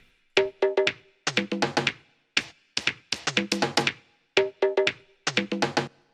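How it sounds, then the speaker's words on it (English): Crisp Korg M1 drum sounds play in a repeating, syncopated percussion pattern, tight and dry with short gaps between phrases. "So I programmed this percussion pattern with the M1 drum sounds"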